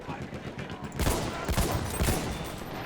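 Rapid gunfire in Battlefield 1 aimed at the player, a dense burst of close, loud shots starting abruptly after a quieter stretch.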